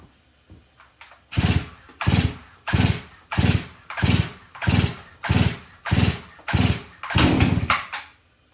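A Holzfforma G466 Pro chainsaw is pull-started with about ten loud, evenly spaced rope pulls, each a sharp burst of engine sputter close by, without catching into a steady run.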